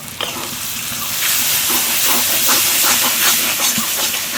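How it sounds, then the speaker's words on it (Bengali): Mustard paste and half a spoon of sugar frying in hot oil while being stirred, with a loud, steady hiss of sizzling and frequent scraping stir strokes, close up, with no talking. "এবার আমি ভালোভাবে নাড়াচাড়া করে নেবো যতক্ষণ না এইভাবে তেল চারিদিক থেকে ছেড়ে দেয়"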